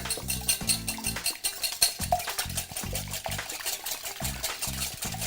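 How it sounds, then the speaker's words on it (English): Whisking eggs in a bowl for lemon chicken avgolemono soup: quick rhythmic clinks and taps of a whisk against the bowl in short bursts, with kitchen music playing underneath. "I'm just going to whisk these eggs up real quickly"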